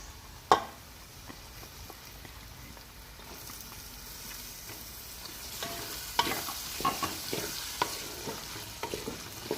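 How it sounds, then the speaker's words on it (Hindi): Onions go into a pan with garlic and ginger for beef saute, soft sizzling under occasional sharp spoon scrapes and stirring clinks, close and fairly quiet. "अब हम इसमें प्याज डाल देंगे"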